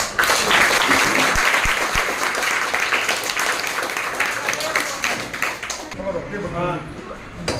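An audience at a school prize ceremony breaks into loud, sustained applause, dense clapping that fades near the end.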